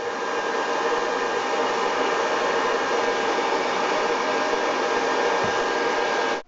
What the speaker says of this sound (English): I just finished with the blow dryer applying heat